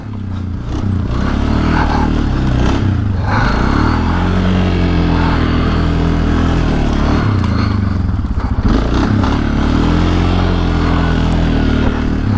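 A Suzuki King Quad 500 AXI four-wheeler engine runs loud and close with a steady, rough drone and occasional revs and dips, alone without talk.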